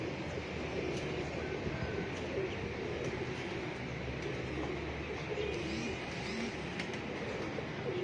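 Pigeons coo softly against a steady outdoor wash of background noise, the calls faint and recurring through the stretch.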